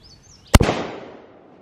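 A Mosin Nagant rifle fired at a milk jug: a single loud, close crack followed by a rolling echo that fades over about a second, with no voices.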